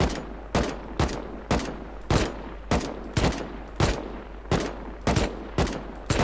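Sharp video-game gunshots ring out in a steady rhythm of about a dozen evenly spaced cracks, loud and close, with no talking over them.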